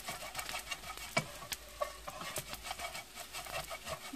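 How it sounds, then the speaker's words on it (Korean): Soft sizzling from a pan as small anchovies are stir-fried, with irregular scraping and tapping of a utensil against the pan, quiet and close. "멸치가 튀겨지듯이 지글지글지글"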